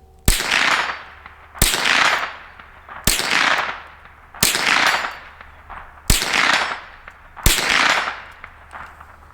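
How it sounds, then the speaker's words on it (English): Six sharp, evenly spaced .22 rifle shots from a Marlin Model 60, each a loud crack followed by a decaying outdoor echo, fired roughly every one and a half seconds. "Fun little plinking gun. You can't hardly beat the Marlin Model 60."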